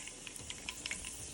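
Mustard seeds and urad dal frying in hot oil, a soft steady sizzle with small scattered pops and crackles, close and fairly quiet, no voices.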